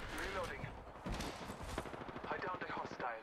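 Gunfire crackles in Apex Legends, quick volleys of shots in bursts at moderate volume, mixed with a voice talking over the action.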